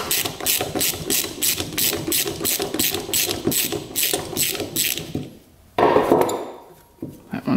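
Ratchet wrench removing stubborn engine studs from a 2-stroke dirt bike, a fast rhythmic series of loud clicking pawl strokes, then a pause and a short burst of scraping metal before clicking resumes.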